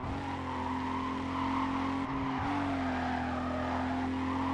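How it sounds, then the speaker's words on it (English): A car in the Need for Speed Carbon racing game revs its engine while its tires squeal in a sustained skid, a loud steady engine drone with a brief dip midway, no talking. "Even the car sounds in this game are really sweet."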